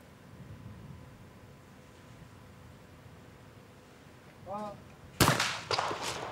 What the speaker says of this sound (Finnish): Ja näin on veli-Matti Matikainen ampunut viimeisen laukauksensa, 12 osumaa